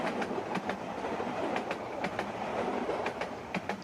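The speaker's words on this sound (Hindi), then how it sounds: "ये क्या, ये तो कोई मुख्तलिफ ट्रेन लग रही है।" An Indian meter gauge train hauled by a YDM4 diesel locomotive passes by, a steady rumbling roar with repeated clickety-clack wheel beats over rail joints, fairly close and continuous.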